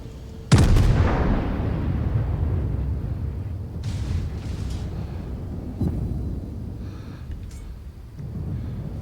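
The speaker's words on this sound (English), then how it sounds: "We're just trading shots for now." In World of Warships, a German Bayern battleship trades naval gunfire: a loud, close boom opens with a long rumbling decay, followed by a few softer distant shots and explosions.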